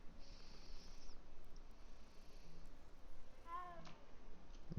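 A cat in the video game Hogwarts Legacy gives one short meow late in the clip, fairly faint over a quiet, steady ambient background.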